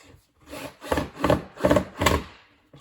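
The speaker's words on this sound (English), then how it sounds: "So 2 screws, one either side, make sure it's nice and tight." Screws are driven into a wooden furniture panel during assembly, heard as about five rhythmic rasping, grinding strokes in quick succession, close and moderately loud, with no talking.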